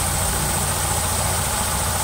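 An automatic scooter engine idles with its rear wheel still, giving a loud, steady, close-up mechanical drone with a constant buzzing hum and no change in pitch.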